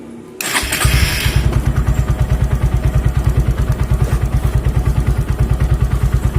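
A Honda Verza FI motorcycle engine, one with a battery-drain problem, cranks and catches with a short whir, then settles into a close, loud, steadily thumping idle with a regular pulsing beat.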